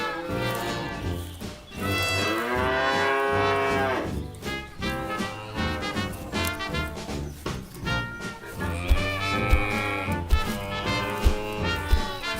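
Several cows mooing on a farm diorama setting, long drawn-out bellows with sliding pitch, overlapping and repeating over a low background rumble.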